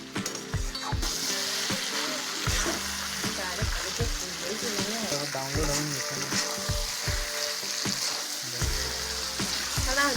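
Chicken meat sizzling and frying hard in a pan during sautéing for a country chicken curry, a steady loud crackle with stirring scrapes and clinks throughout, no speech.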